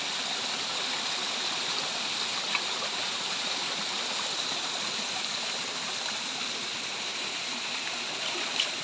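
A steady rush of falling water from a small waterfall on farmland in General Nakar, Quezon, broad and continuous, with no voices over it.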